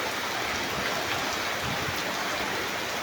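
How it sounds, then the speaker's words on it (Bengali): A hard, prolonged downpour roars nearby, a thick, constant wash of raindrops pounding surfaces without pause or speech. "জোরা বৃষ্টি চলতেছে"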